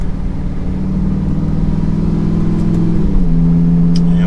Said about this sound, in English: The Lamborghini still runs, it still drives.